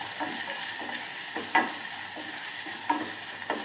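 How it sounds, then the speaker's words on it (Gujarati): Chopped onion sautéing in hot oil, a steady loud sizzle broken by a few soft scraping stirs of a spatula through the pan, close up with no voices. "હવે એમાં હું ડુંગળી નાખું છું કરીને કાપેલી. એને મિક્સ કરી દઈશ."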